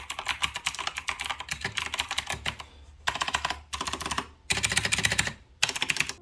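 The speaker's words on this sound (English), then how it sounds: "my previous keyboard was the Corsair K70, and it sounded something like this" Rapid, loud typing on a Corsair K70 mechanical keyboard, dense bursts of clacking keystrokes broken by brief pauses, close up with no talking.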